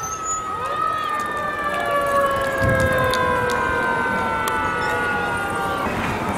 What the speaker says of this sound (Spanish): veo un camión de bomberos